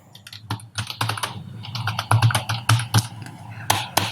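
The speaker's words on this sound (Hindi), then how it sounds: "यहाँ से मैं bad debts private limited enter press करता हूँ" Rapid, uneven keystrokes on a computer keyboard as a company name is typed and Enter is pressed, close and crisp, with no talking.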